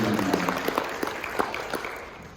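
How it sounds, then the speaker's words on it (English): An audience applauds the Consul General at a PICPA Dubai general assembly, a brisk burst of scattered hand claps from a modest indoor crowd, fading toward the end. "Can we give a round of applause for our Consul General?"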